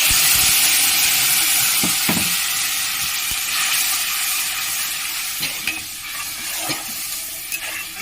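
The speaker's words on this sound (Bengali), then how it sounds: "সামান্য হলুদ দিয়ে দিলাম যাতে মশলাটা দিলে না ছিটকয়। এতে আমি দিয়ে দিলাম টমেটো বাটা।" Tomato paste with a pinch of turmeric frying and being stirred in a hot pan, a loud steady sizzle with scraping stir strokes and occasional clinks, close up.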